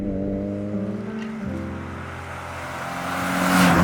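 An Opel Kadett GSI, converted from a 1.6 to a 2-liter engine, runs smoothly with a steady droning hum and clear harmonic tones, its pitch dropping slightly midway before the revs rise again toward the end.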